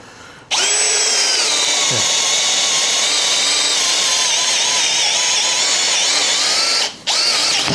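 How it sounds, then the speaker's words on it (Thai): A Stanley Fatmax SBD716D2T cordless impact drill bores into wood. A loud, sustained whine starts abruptly after a short pause, shifts pitch slightly as the bit bites, and drops out briefly near the end before restarting. "เจาะไม้พวกนี้สบายๆอยู่แล้วนะครับ"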